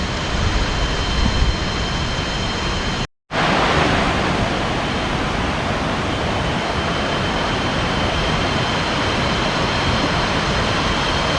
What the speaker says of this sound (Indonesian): Ini tong lagi berada di air terjun 7 tingkat